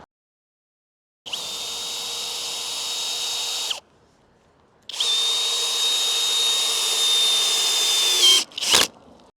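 A power drill drives a 3/8 by 8-inch screw into a wooden arbor post, whining loudly in two long sustained bursts with a short pause between, ending in a brief final spurt.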